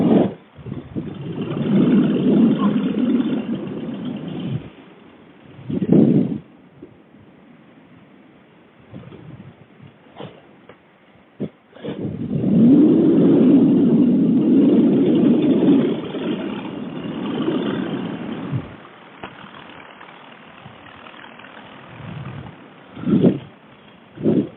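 Paramotor engine idling in flight at altitude, a low steady drone that swells and fades in long stretches with brief louder bursts, heard alone without talk.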